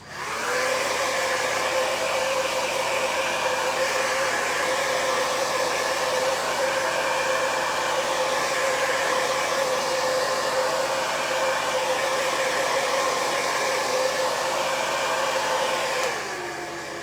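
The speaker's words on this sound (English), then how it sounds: "I am going to dry this with my blow dryer" Handheld blow dryer on its cool setting drying ink on a t-shirt, a steady close airy roar running continuously for about sixteen seconds before cutting off, with no talking.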